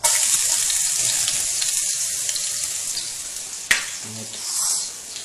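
Garlic sizzles in hot oil in a pan, a steady bright frying hiss with a sharp clatter partway through and some stirring near the end.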